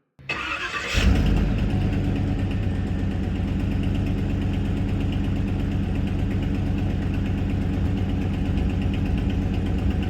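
An old truck engine with its original muffler cranks over, starts and settles into a steady, loud, rumbling idle close by, with no talking.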